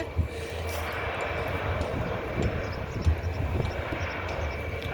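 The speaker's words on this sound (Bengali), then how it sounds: "Airbus A three two zero সে বিমানটির ফটো তুলে নিয়েছে এখন বিমানটি টেক্স হয়েতে আছে" An Airbus A320 airliner taxis, its engines producing a steady, broad jet roar that holds at moderate loudness with no talking.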